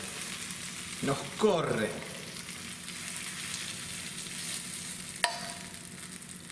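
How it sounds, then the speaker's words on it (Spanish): Onions frying golden, close to caramelizing, in a pan while sole is being cooked: a steady soft sizzle runs throughout, with a couple of louder scraping stirs early on and a sharp clink near the end, under brief speech. "rico olor la cebolla cuando está así dorada, a punto casi de caramelizarse"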